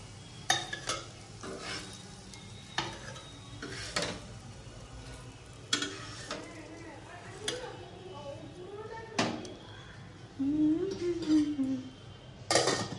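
Lentil fritters fry in a pan with a steady low sizzle, broken by sharp clinks and scrapes from a utensil against the pan. A voice is briefly heard in the background.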